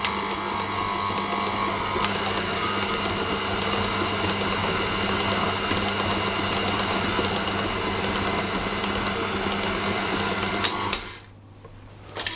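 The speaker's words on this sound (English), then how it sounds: "sprinkle your 120 grams of dried blueberries and mix those until they're just combined" Dried blueberries stirred into oat cookie dough by an electric stand mixer, a steady loud motor whir with rhythmic mechanical churning that runs continuously, then cuts off abruptly near the end.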